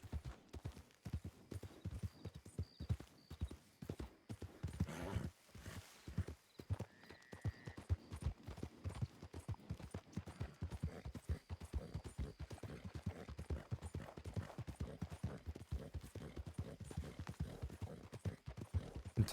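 A horse's hooves clip-clop in a continuous brisk rhythm, close and clear, with a brief whinny partway through and no one speaking.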